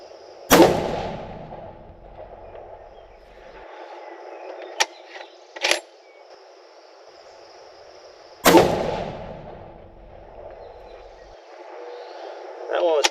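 Two loud rifle reports from a hunting rifle firing 162-grain ELD-X factory ammunition, each a sharp crack with a long rolling echo, spaced about eight seconds apart over outdoor background hum.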